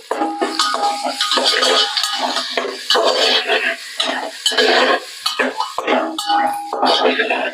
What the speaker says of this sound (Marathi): फोडणीमध्येच थोडीशी कोथिंबीर टाकणार आहोत